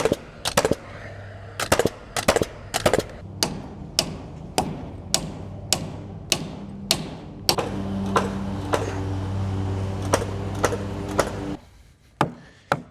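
A new, more powerful Paslode bump-fire nail gun fires nails during a building truss install, giving a series of sharp, loud bangs at irregular intervals, about twenty shots over a running hum, close by.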